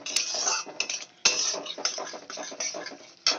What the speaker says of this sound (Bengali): মশলাটা ভালো করে কষিয়ে নেব যতক্ষণ না এর তেল ছাড়ছে